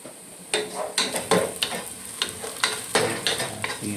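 Onions frying in olive oil in a pan for Filipino-style chicken biryani, a steady close sizzle broken by repeated scraping stirs at an uneven rhythm, with no voices.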